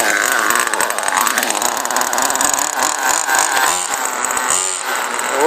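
A small gas engine in an Alcelife FW-06 RC boat runs in cold weather with a steady high buzzing whine, its pitch rising and falling as the throttle changes, close and loud with little else heard.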